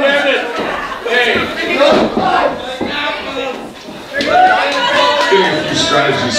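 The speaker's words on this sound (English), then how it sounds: "Getting a few strategy suggestions here from the crowd at the end." A wrestling crowd yells and shouts loudly at the end of a match, with overlapping voices surging in waves and some clapping mixed in.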